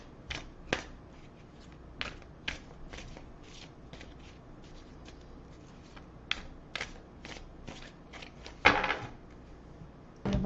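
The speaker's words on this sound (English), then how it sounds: "so this is just sort of a last little shuffle." Quick crisp riffles of shuffling tarot cards, short bursts repeating at an irregular pace close by, with a louder riffle near the end.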